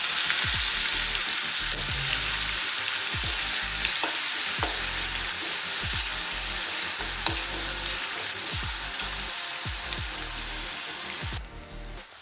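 Asafoetida and ginger-garlic paste frying in hot oil in a pan for bread rolls, a loud continuous sizzle with crackling pops and occasional stirring scrapes.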